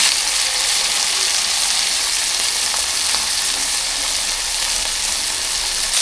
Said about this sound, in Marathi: आता आई टाकते कोळंबी ते कोळंबी फ्राय करायला